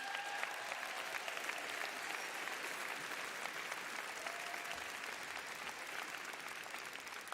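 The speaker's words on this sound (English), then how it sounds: "Let's give a round of applause to our families." Steady, dense applause from a commencement audience fills the whole stretch, loud and even with no pauses and no voices rising above it.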